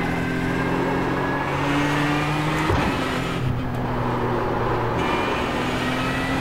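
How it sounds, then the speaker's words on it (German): Ford GT engine idling at low revs in the iRacing sim at night at Spa-Francorchamps, a steady droning hum with a brief pitch dip midway, no talk. "Aber wenigstens wieder ein schönes, untertouriges Drehzahlgeräusch."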